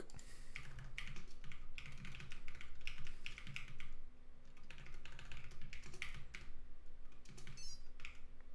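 Fast, steady typing on a computer keyboard with layer modifier keys, close up, with clicks and clacks in quick uneven bursts and brief pauses over a low background hum.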